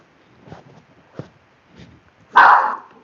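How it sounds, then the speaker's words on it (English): A dog barks several times, a few soft muffled woofs followed by one louder, sharper bark close by. "I don't know why Lucy's barking"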